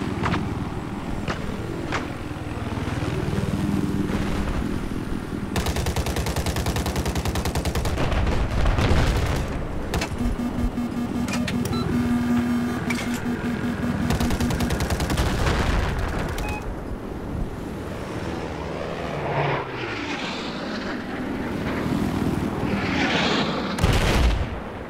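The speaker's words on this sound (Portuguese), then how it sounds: "Peguei o antiaéreo." Anti-aircraft gun fire in the Battlefield 4 video game, a sustained stretch of loud, dense rapid shots and booming blasts that continues almost without pause across the whole stretch, with no talk.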